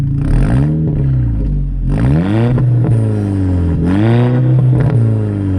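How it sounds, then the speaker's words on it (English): A Seat Leon Cupra R engine revs up sharply three times in a row, each blip rising in pitch before dropping back to idle, loud and close with throaty exhaust. "I'm going to give the engine a few blips to get some exhaust noise."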